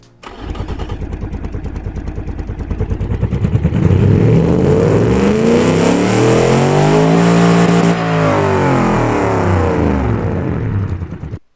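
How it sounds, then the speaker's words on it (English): A video game car engine, a roughly 1000 hp car in BeamNG Drive, cranks and catches, then revs up high and holds a loud, roaring drone before dropping and cutting off; loud and close, no talking. "let's hear this car fire up"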